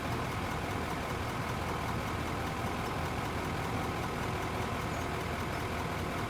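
A tractor engine idling in the video game Out of Ore, a steady, unbroken mechanical drone with a dense noisy rumble that holds at an even loudness throughout and nothing else breaking through.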